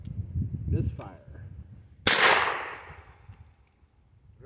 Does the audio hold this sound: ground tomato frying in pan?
no